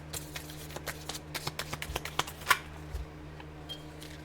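Playing cards are handled and shuffled in a series of quick, light riffling clicks and snaps spread across a few seconds, fairly close but soft, with no talk over them.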